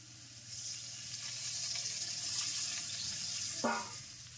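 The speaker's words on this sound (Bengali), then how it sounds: "এখন দিয়ে দিচ্ছি জল।" Water is poured into a pan of lightly fried vegetable stalks seasoned with salt and turmeric, giving a steady hiss and splash, with a brief sharper burst near the end.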